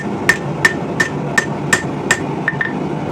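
A hammer strikes hot steel on an anvil, upsetting the stock while forging a set hammer from an old ball peen: eight sharp, evenly paced ringing blows, close and loud, with no talking.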